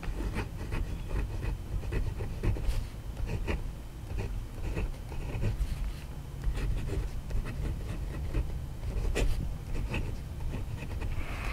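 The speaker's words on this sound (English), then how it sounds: "So let's do some final writing" Nib of an Asvine V169 matte black fountain pen scratching steadily across paper, a continuous close scritch with short repeated stroke bursts and no talking.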